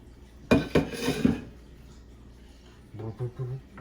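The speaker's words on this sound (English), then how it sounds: "we're going to start cut up this cabbage" A knife chops through cabbage on a cutting board in a few quick, knocking strokes, followed by a quiet pause and then a person talking.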